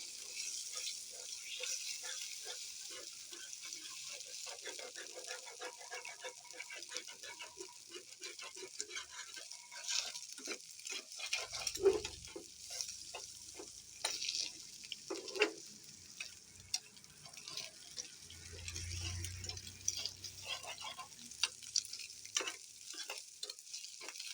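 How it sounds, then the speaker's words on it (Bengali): Egg being stirred and broken up by hand into crumbles in a frying pan, with soft sizzling and frying under repeated stirring and scraping, a few brief knocks standing out. "এবার কিন্তু হাত দিয়ে ডিমটাকে একে ভালো মতো এভাবে ঝুরঝুরা করে নেব"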